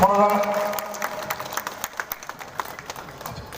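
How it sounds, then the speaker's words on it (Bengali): Applause from an audience at a local club's Kali Puja charity event: a crowd claps steadily, the claps thinning into separate hand slaps, with a voice talking over the start. "সবাই জোরে হাততালি, একজনও থাকবেন না যে হাততালি দেবেন না।"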